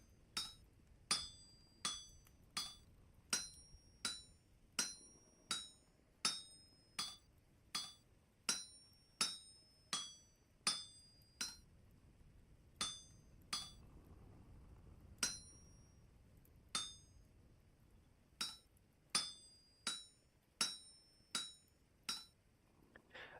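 A smithing hammer strikes metal in the game Vintage Story about two dozen times at a steady, brisk rhythm. Each blow rings with a bright metallic clink, and there is a brief pause near the middle.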